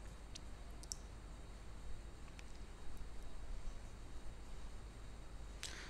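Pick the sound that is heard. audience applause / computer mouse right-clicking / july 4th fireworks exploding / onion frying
computer mouse right-clicking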